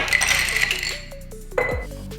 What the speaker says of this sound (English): We're gonna start with ice in the mixing glass.